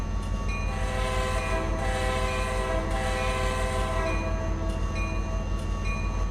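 A train running in the Trainz video game: steady loud engine drone with a continuous sustained horn tone layered over it throughout, no talk.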